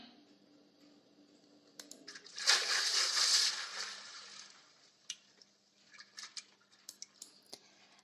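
Water splashes and sloshes in a short, busy burst near the middle, then fades into a few scattered drips and small taps in an otherwise quiet setting.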